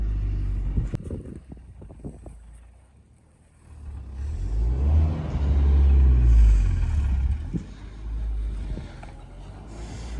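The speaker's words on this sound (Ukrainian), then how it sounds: "Вже приїхала машина арматуру" A truck delivering rebar to a construction site pulls in, its engine rumbling low and swelling as it approaches and idles nearby, with a few clanks early on and no talk.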